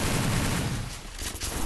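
Gunfire rattles through a shooting video game match, a dense, continuous burst of rapid shots filling the whole moment at steady loudness with no voices over it.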